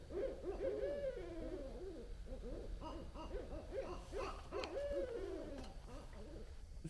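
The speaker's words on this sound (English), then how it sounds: "It's the sound of the owls." Owls hoot repeatedly in overlapping, wavering calls, fairly close and steady throughout, with a low rumbling background.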